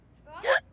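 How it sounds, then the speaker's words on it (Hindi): A single short hiccup, a quick rising voiced catch in the throat, close and fairly soft, heard alone. "देखो तो कितनी जानलेवा हिचकी आई है।"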